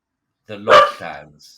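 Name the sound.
dog barking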